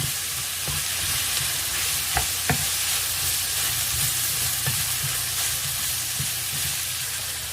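Spices frying with smoked sausage in a hot pan, a loud, continuous close sizzle with a few clinks and scrapes of stirring.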